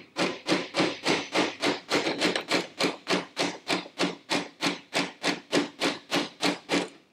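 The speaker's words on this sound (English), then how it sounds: "you can tap the pedal bolt back out of the chassis if it's a little bit stuck." A soft face hammer taps steadily at a pedal bolt stuck in a kids' racing car chassis, about twenty evenly spaced, close, moderately loud knocks with no talking.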